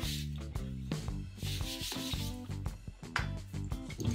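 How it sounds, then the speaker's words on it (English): A cloth wipes excess glue off an acoustic guitar being repaired for a separating back, making close, brisk rubbing strokes in quick repeated passes. "now we take our cloth and small cleanup for all the excess glue we don't need"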